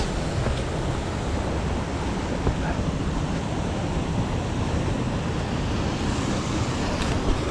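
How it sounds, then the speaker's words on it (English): A waterfall in the Mamores, Scotland, roars continuously nearby, a steady, dense rush of falling water that fills the whole clip without pause. "the noise of the waterfall"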